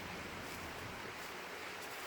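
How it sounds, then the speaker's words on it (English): Water flowing in a creek near a waterfall along a garden path in very early spring, a faint, steady broadband rush that eases slightly toward the end, with no voices. "there's the sound of water coming from a different direction"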